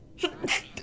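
A single short sneeze, a quick sharp burst with a small inhale before it, close to the microphone and alone, with no talking during it.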